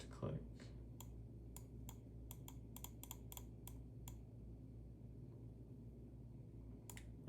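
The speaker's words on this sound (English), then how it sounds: "Let's try the right click." A Vaxee E1 computer mouse's right button clicked repeatedly: about a dozen light, crisp, faint clicks at irregular intervals over a steady low room hum.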